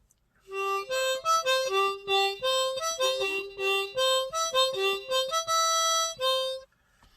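A reedy harmonica plays a short bugle-call style melody in crisp, separate notes, close and clear, with no talking.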